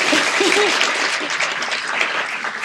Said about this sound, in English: please give a warm round of applause for Officer Madison O'Connor to come forward